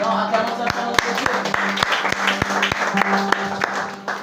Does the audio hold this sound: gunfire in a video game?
no